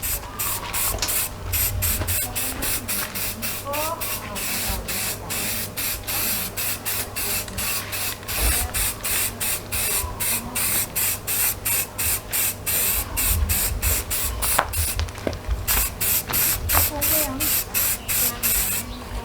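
Ordinary aerosol spray paint hissing in repeated bursts onto a Honda Wave 100 motorcycle exhaust pipe being refinished, with steady close spraying throughout and someone talking over it.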